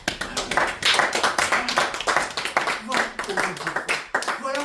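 A church congregation clapping to acclaim the word of God, rhythmic uneven hand claps close by, with voices talking and calling out among the clapping.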